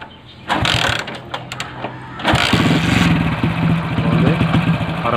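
A motorcycle engine cranks with a whirring starter, catches briefly, then starts on a second try and settles into a loud, close, steady idle, with no talking.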